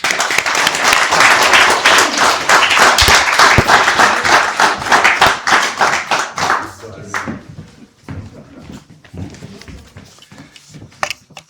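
An audience applauds the author at an evening book launch, with loud, dense clapping that thins into scattered claps before a few voices come in at the end.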